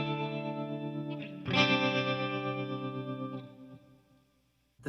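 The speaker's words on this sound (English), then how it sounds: "the first one of which is a clean sound with a little bit of tremolo" Clean electric guitar tone with a light tremolo from a Fractal FX8 preset, sustained chords ringing with a brief pause and re-strike, then fading out near the end, no talking.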